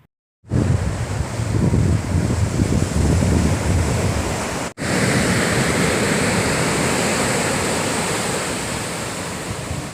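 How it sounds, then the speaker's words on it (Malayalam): Arabian Sea surf roaring onto the shore at a church courtyard in Vettukad, a broad, continuous wash, close and loud, with a brief break midway and wind buffeting throughout. "ദേവാലയ മുറ്റത്തേക്ക് കയറി വരുന്ന തിരമാലകൾ"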